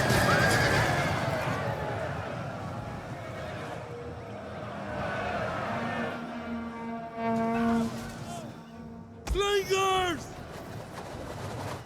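Horses whinny several times in the Total War Rome 2 strategy game, with long wavering neighs over a rumbling battle din and a sharp, louder whinny near the end.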